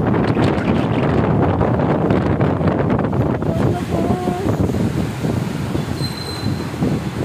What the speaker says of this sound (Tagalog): Napakalakas ng ulan. At with the hangin effect.